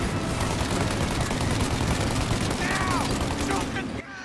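Rapid, dense gunfire from the Mafia Definitive Edition video game rattles continuously in a loud burst, then cuts off abruptly near the end.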